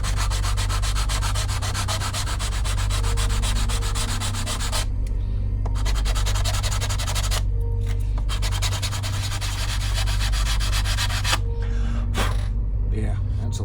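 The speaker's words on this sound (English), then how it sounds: "So let's sand this down." Sandpaper rubs by hand against the wooden hull of a 1:50 scale OCCRE Flying Dutchman model ship, with steady back-and-forth scratching strokes, close up, broken by a few short pauses.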